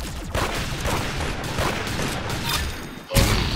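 Rifle fire in the Roblox game Arsenal rattles as a dense, continuous stream of rapid shots, loud and close, ending with a sharp heavier burst.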